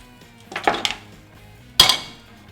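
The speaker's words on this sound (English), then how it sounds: "New pan." Pots and pans clatter as a blender is set aside and a new pan is brought out while cooking jerk pork tacos: a few close metallic clanks, then one sharp loud bang of metal cookware.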